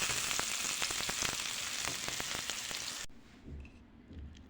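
Onion fries toward light browning in a pan: a loud, continuous sizzle with crackling pops for about three seconds, then it abruptly drops to a faint low rumble.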